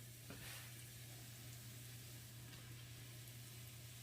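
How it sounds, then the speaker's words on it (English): Golden oyster mushrooms sizzle and fry in a pan, a steady, even crackling hiss that continues throughout at a moderate level. "Alright, it's frying."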